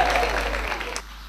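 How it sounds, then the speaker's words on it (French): A gathering claps briefly at a music and dance event in Guinea, a short burst of applause that fades out within about a second. "Vous pouvez applaudir pour ça, s'il vous plaît."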